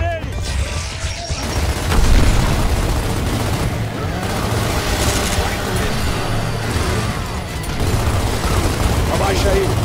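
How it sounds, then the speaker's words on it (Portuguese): A grenade blows up in Gears of War amid constant gunfire and a dense, booming battle mix, with a voice shouting over the noise. "Vai explodir!"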